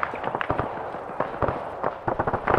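Heavy gunfire from a BRDM scout-car technical with a 14.5 mm cannon in the military game Arma 3, a rapid series of sharp, fairly close bangs and bursts spread unevenly across the moment, with no talk.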